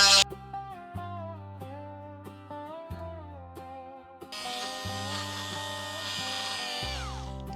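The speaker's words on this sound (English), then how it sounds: "So let's get our Dremel going here." A Dremel rotary tool cuts on a model build, a high whining motor with shifting pitch and bursts of harsher grinding as it bites, close and continuous.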